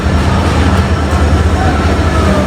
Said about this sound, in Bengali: ওই একটা ট্রেন যাচ্ছে